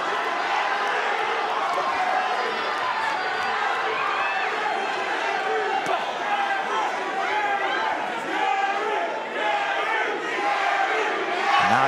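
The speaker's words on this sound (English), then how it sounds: "The crowd's getting into it, cheering on both guys" A boxing arena crowd roars and cheers for Magsayo and Gary Russell during their fight, a loud, dense, continuous wall of shouting with a commentator talking over it.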